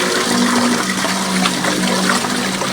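Water gushing from a tubewell pump on a farm, a loud, close, continuous rush and splash that stays steady throughout with no talk.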